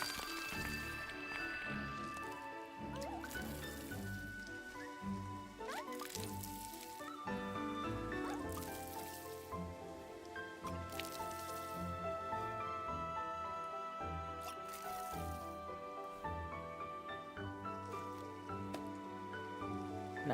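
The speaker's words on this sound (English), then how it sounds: "Watering can." Watering can pouring onto plants in the cozy video game Wanderstop, a steady soft splashing rain-like patter lasting throughout, set against layered game music.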